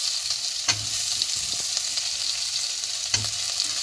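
Boiled potatoes added to lightly fried onions in a pan, a constant sizzle with two distinct spatula strikes and some softer stirring scrapes, no one speaking.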